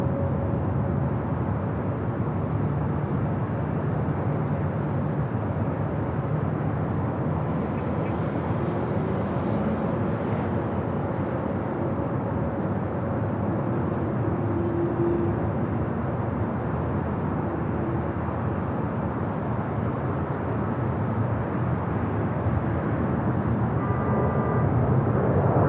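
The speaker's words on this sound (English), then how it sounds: "Next arrival is Eva, Flight 12, coming up from Taipei. 777 at 300 ER." An EVA Air Boeing 777-300ER arriving at LAX from Taipei, heard as a steady, broad jet roar that holds at an even level throughout, distant and continuous with no voices.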